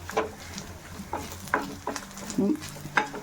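A tempering for a mashed yam and pumpkin curry fries in a pan, with intermittent stirring clinks and scrapes over a faint sizzle, close and moderately quiet.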